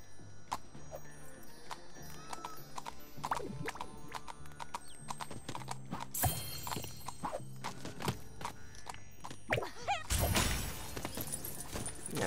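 Rhythmic hoof clip-clops of a white horse in The LEGO Movie 2 Videogame's Old West level, trotting at moderate distance over game music, followed near the end by a loud rushing burst.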